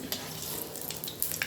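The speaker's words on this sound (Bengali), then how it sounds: "তেজপাতা, মশলাটা যখন ফুটবে তেলে ফটফট করে" Whole spices and a bay leaf crackle softly in hot oil, a faint, steady sizzle punctuated by a few sharp little pops.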